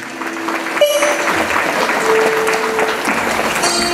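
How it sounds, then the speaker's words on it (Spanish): Crowd applause at the annual fair in Santa Maria Zoyatla, a steady broad wash of clapping sustained for several seconds, with brief tones and voices faintly above it. "Un aplauso más bonito para ella, por favor"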